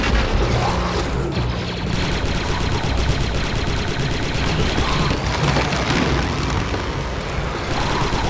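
A tree branch blown up in the Star Wars Republic Commando game, heard as a dense, continuous barrage of booming blasts and rapid gunfire, loud and sustained throughout.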